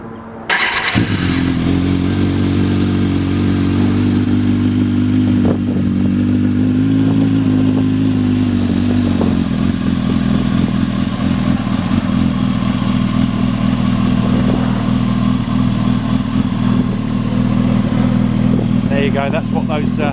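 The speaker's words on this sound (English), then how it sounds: "that's what those Max Torque exhaust cans sound like" A motorcycle fitted with Max Torque exhaust cans starts up and idles loudly and steadily up close, with a deep, throbbing exhaust note that swells slightly partway through.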